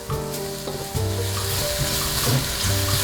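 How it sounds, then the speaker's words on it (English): Garlic sizzles steadily in a hot pan for a mushroom Alfredo sauce, stirred with a few scraping pushes, the frying hiss close and continuous throughout. "stir that around a little bit. You don't want to ever burn your garlic."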